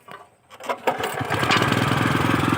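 A farm tiller's engine being started: a few short uneven cranking bursts, then from about halfway on it catches and settles into a steady, loud chugging idle, close to the listener.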